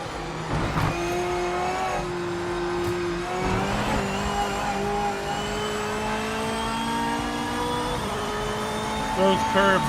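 A race car in the Project Motor Racing video game runs over curbs with a steady, loud engine tone and brief tire scrubs, the drone continuous throughout with a voice talking over it.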